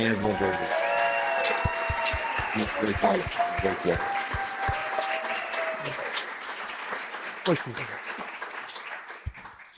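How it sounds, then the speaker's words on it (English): Audience applause at a live event, a dense wash of clapping running under a loud voice that talks over it throughout, with a few sharper claps standing out. "we should give a raucous round of applause to the one and only"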